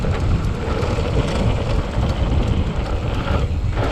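Loud, steady wind roar buffets the microphone throughout a fast scenic motorcycle ride through the Vale of Clwyd countryside, a continuous rushing drone with no pauses.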